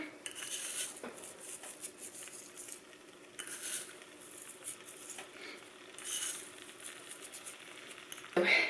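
Soft clinks and scrapes of utensils against plates and a pan, intermittent and fairly quiet, with a faint background hiss.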